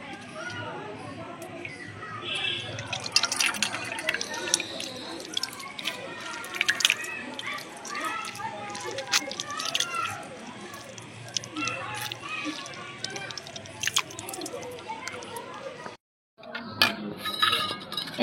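Liquid strained through a cloth drips and trickles steadily, with scattered clinks of a utensil against a dish, fairly quiet and close; a brief silent gap comes near the end before the dripping resumes.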